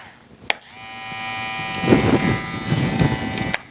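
A VGR V667 retro hair clipper switches on with a click and its motor rises into a steady close, bright electric buzz that roughens partway through, with a second click near the end.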